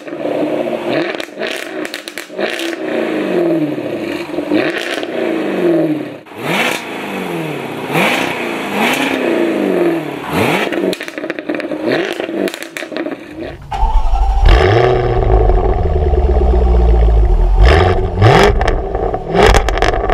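A Jaguar F-Type R with its stock exhaust revs hard again and again, each rise and fall of pitch loud and close, then settles into a deep, rumbling idle for the last few seconds.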